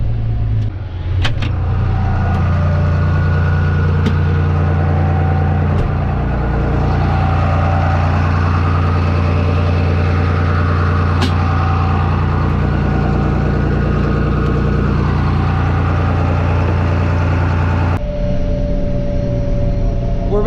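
A heavy diesel tractor engine drones steadily while driving, close and loud, with occasional clicks and knocks before the engine note shifts near the end.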